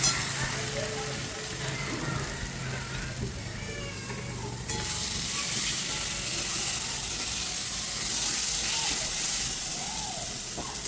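Crab legs sizzle and fry steadily in a spice masala as they are stirred, a dense, continuous crackling hiss that briefly drops and then grows louder for the rest of the stretch.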